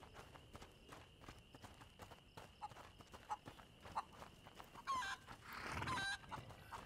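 A horse in the video game A Plague Tale: Innocence, with faint hoof clip-clops, snorts and shuffling against soft clucking fowl in a quiet stable ambience, ending in a louder burst of movement.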